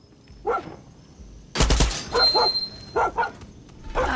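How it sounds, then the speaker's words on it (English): A dog barks a few short times in the Far Cry 6 video game, separate yelps spaced out over a quiet background, with a loud burst of another game sound in the middle. "Found a dog, too."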